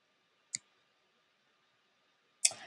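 A computer mouse clicks twice, crisp and close, the two clicks about two seconds apart over a faint electronic hum.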